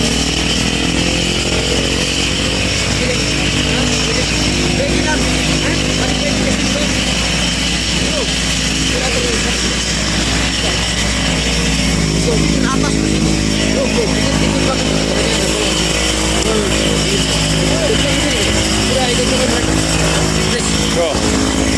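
A motorcycle engine drones loudly and steadily from close by throughout a ride, with a rough buzzing tone and people talking over it.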